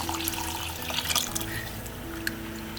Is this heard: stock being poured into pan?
yes